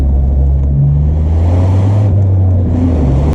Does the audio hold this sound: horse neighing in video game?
no